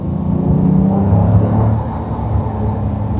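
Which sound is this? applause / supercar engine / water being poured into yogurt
supercar engine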